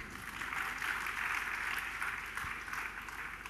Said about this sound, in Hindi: जिनको समझ में आया वो अपने लिए ताली बजा लो